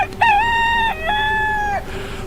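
A rooster crows loudly and close by in one long cock-a-doodle-doo, with a short opening note and a drawn-out final call, alone with no voices.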